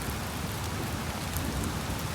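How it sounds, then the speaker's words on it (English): Steady rain falling as hail turns to rain on a backpacking trip in the Pecos Wilderness near Truchas Peak, a dense, even hiss of drops close by with no break and no voices. "Watching the sun burn off some clouds while the hail turns to rain"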